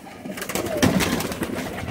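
Pigeons coo at a pigeon show where they are being fed, with soft, low cooing blending into a steady, busy background of flock noise that swells briefly near the middle and holds at a moderate level.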